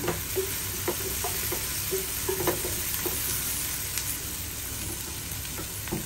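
Onions sautéing in a pan for pork estofado: a steady sizzle runs throughout, broken by repeated spatula scrapes and taps against the pan at an uneven pace.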